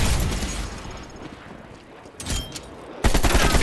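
Dual-wield magnum gunfire in Call of Duty Black Ops Cold War, a dense burst of rapid shots at the start, a quieter stretch, then another loud volley near the end.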